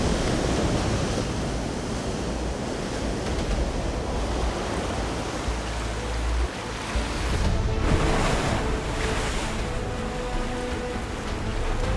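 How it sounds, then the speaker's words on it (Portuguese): Huge ocean waves break against a rocky shoreline in a constant loud wash of surf, with a heavier surge of crashing water midway and no voices. "Ao chegar à linha costeira, as ondas enormes quebram e as lançam contra as pedras."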